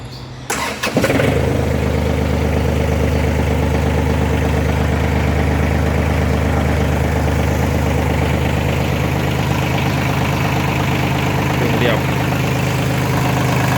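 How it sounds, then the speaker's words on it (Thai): A John Deere 3036E tractor engine cranks and catches, then settles into a steady, loud, rumbling idle that continues without a break. "เดี๋ยวผมจะสตาร์ทเครื่องให้ฟัง"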